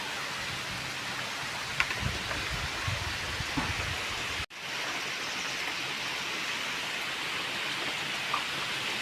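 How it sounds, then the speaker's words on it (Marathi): Light drizzle falls outdoors in a village, a steady soft hiss of rain with low rumbling from thunder in the background. The level stays even throughout, broken by one brief dropout near the middle. "मंडळी रिमझिम पाऊस पडायला सुरुवात झालेली आहे आणि घडघडाला पण सुरुवात झाली आहे"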